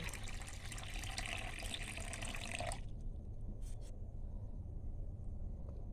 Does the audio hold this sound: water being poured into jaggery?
yes